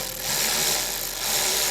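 A power tool removing screws from couplers on a C8 Corvette E-Ray whirs continuously at close range, a steady high-pitched buzzing drone that dips slightly midway before picking back up.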